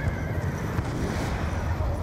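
Horses in the game Call of Duty: Black Ops II whinny and neigh over a rumbling battlefield din with faint hoof clatter, moderately quiet and without speech.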